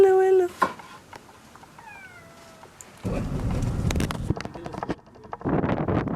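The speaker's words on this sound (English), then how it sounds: "Hello, kitty cat." A cat meows several times in short, rising and falling calls, close and fairly clear, before gusty wind noise takes over in bursts.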